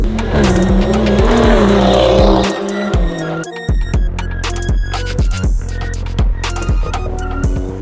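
A stage 2 tuned BMW 140i making around 430 bhp is driven hard on a kart track, its engine roaring loud and close throughout, with revs rising and dropping, gear changes and squealing tires.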